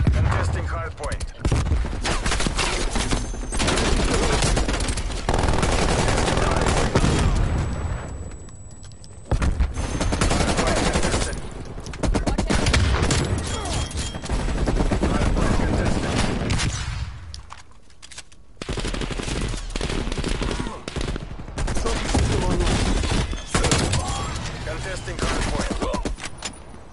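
Rapid gunfire bursts and automatic weapon fire crackle almost continuously in a multiplayer shooter video game match fought over a hard point, with brief lulls, under a player's voice and in-game announcer callouts.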